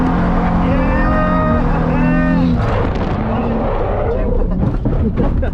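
A car drifting accelerates hard, engine climbing in pitch then breaking into a rough, loud roar with tyre and gravel noise, close and continuous, with a voice partly heard over it.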